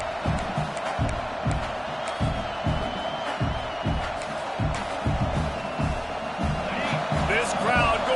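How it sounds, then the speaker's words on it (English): Steady stadium crowd roar from the College Football 26 video game, a dense continuous wash with rising cheers near the end, running under play-by-play commentary. "This crowd going to try to make life miserable for these guys."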